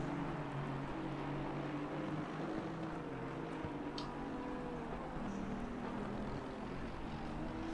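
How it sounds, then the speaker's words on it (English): Race car engines drone in a sim racing endurance game during a 12-hour race at Mount Panorama. The steady, faint hum is low and continuous, with no voices. "you should be able to hear the car engines"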